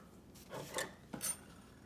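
Dishes, utensils and items being cleared off a kitchen counter, a few quiet clinks and scraping rubs of metal and glass in a short cluster, close and faint.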